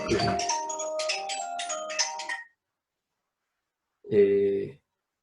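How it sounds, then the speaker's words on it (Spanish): A mobile phone ringtone plays a short melodic phrase, falls silent, then sounds briefly again, clear and fairly close during a church service. "voy a apagar el teléfono."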